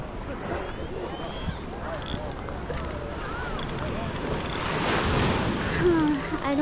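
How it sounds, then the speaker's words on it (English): Ocean waves wash onto Nai Harn beach in Phuket, Thailand, a broad rushing surf that swells louder toward the end, mixed with wind noise and a nearby voice. "Oh no, look at that waves."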